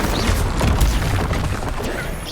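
The Incendio fire spell bursts in Hogwarts Legacy: a loud, dense whoosh with a booming crackle of flame and impact, filling about two seconds with no pause.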